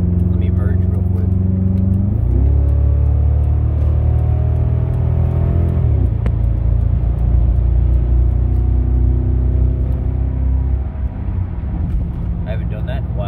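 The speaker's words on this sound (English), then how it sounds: "This 373 gear really woke up the rear end of this this town car." Lincoln Town Car fitted with 3.73 rear gears accelerating hard on a highway, a loud, close engine drone climbing in pitch through several gear shifts, heard from inside the cabin.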